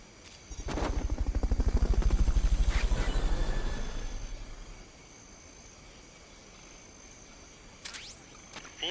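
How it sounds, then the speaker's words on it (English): Fulton Recovery helicopter from Metal Gear Solid: Peace Walker, a loud pulsing rotor whir that swells over a few seconds and fades out, followed by quieter background hum and a brief sharp mechanical sound near the end. "Fulton Recovery subject confirmed onboard helicopter."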